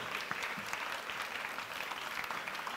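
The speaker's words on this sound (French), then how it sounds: "Vous pouvez l'applaudir." An audience applauds at the Day-Click 2016 opening ceremony, a dense, steady wash of many hands clapping together that holds at an even level throughout, with no voices rising above it.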